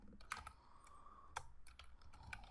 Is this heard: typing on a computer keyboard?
yes